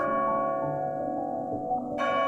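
Rich, sustained bell tones ringing together with a dense, lingering resonance, no voices present.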